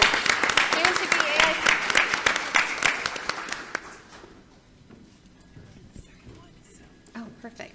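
An audience at a certified planner exam prep game show claps loudly for a few seconds, then the applause fades out into quiet room noise with scattered claps and some talking.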